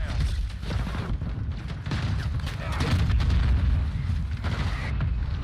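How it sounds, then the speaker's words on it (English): Mortar strike explosions in Call of Duty: Modern Warfare II, a dense, continuous barrage of loud booms and rumbling blasts that swell in the middle, with a voice talking faintly underneath. "Now a mortar strike is inbound."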